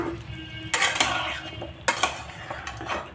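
A metal pot lid is lifted and pumpkin with fish is mixed in the pot, bringing two sharp clanks followed by lighter clinks and scraping, close by.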